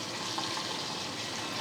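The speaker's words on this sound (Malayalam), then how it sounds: "ഇനി ഇതിലോട്ട് വെള്ളം കൂടി ഒഴിച്ച് കൊടുക്കാം" Water pours steadily into a pot of drumstick-leaf and green gram curry seasoned with chilli powder and salt, a continuous close splashing hiss with no pauses.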